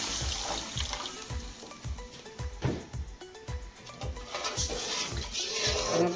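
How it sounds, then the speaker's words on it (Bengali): Water is poured into a pan of frying prawn batter fritters in oil, a soft steady trickle and pour with faint bubbling sizzle, close and continuous throughout. "পানি দিয়ে দিতে হবে।"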